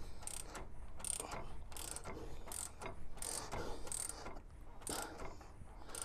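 A hand ratchet wrench tightens brake bolts during a big brake upgrade on an LS-swapped G-body, giving a steady series of quick clicking strokes at moderate, fairly faint level.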